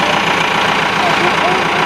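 A tractor engine runs steadily at idle, a close, continuous rumbling drone with a slight knock, and voices murmur faintly beneath it.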